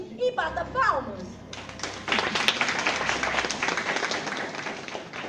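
Audience of teachers at a training session breaks into clapping after a brief voice, mixed applause that builds quickly and continues steadily near and moderately loud.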